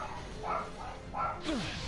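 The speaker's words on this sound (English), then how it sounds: "Oh, dogs are barking." Dogs barking in the Disney Infinity 2.0 Guardians of the Galaxy game, a few quiet, short barks in quick succession over faint background sound.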